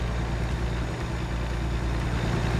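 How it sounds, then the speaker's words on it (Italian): A truck engine in American Truck Simulator roars steadily and loudly as a continuous low drone with constant broadband noise, with no pauses and no other sounds. "Sentite qua il ruggito dei motori."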